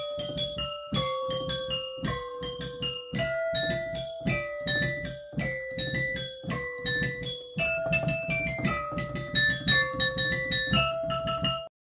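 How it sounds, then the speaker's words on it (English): Carol of the Bells is played as a melody on tuned struck-glass samples, bright ringing notes in a quick repeating pattern layered over a low accompaniment, steady and fairly loud throughout. "And now I can play Carol of the Bells."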